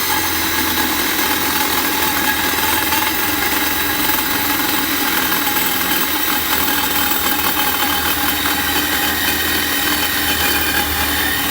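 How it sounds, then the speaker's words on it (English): A Sawzall reciprocating saw fitted with a bimetal blade cutting metal on a Chinese mini excavator, a loud, continuous buzzing saw drone held steady and close for the whole stretch. "I have a bimetal blade in my Sawzall here"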